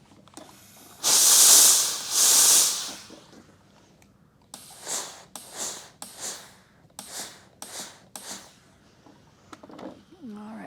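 A steam iron pressing a wool appliqué border gives two long, loud hisses of steam, then a series of shorter, softer puffs and bumps as the iron is slid along.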